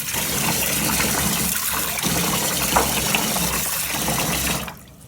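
Water gushes steadily from a tap over rice set to soak for fish biryani, a loud continuous splashing pour that stops abruptly near the end.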